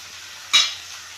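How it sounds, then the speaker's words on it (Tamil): Bitter gourd sautés in oil in a pan along with onion and tomato, heard as a single short burst of stirring and sizzling against a quiet background. "இப்போ கொஞ்சம் வதங்கட்டும்."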